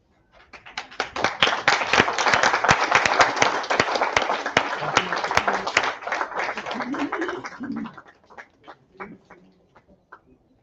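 Audience applause at an award ceremony and book launch, a dense, lively burst of clapping from a crowd that builds, holds for several seconds, then thins into a few scattered claps.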